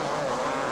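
Factory Yamaha dirt bikes race past at a 1985 motocross event, their engines a loud, continuous high-pitched buzz with no pause.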